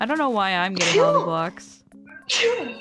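A person sneezes once during a Minecraft OneBlock SkyBlock game, a short burst among steady talking voices that continue around it.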